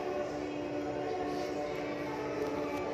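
An LRT train runs past near Marikina-Pasig station, a steady, continuous rumble of wheels and rail noise that holds at even loudness throughout, with no clear horn.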